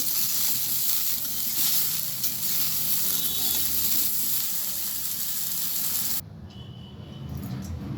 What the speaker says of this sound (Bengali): ওই তেলের মধ্যে আমি দিয়ে দিলাম জিরে ফোড়ন, আর দিয়ে দিলাম তেজপাতা আর কাঁচা লঙ্কা।